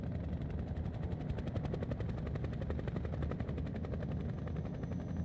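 A helicopter in the horror game Nightmare House arrives carrying a SWAT team, its rotor thumping in a fast, steady beat over a low engine drone, moderately loud and continuous with no speech.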